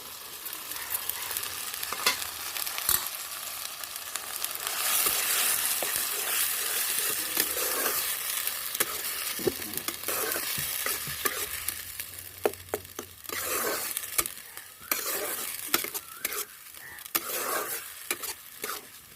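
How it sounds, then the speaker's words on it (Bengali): A paste of ginger, garlic and onion fries in a pan with a fairly quiet, steady sizzle, punctuated throughout by frequent spatula scrapes and taps against the metal. No voices. "এটা একটু ভাজা ভাজা করে নেব।"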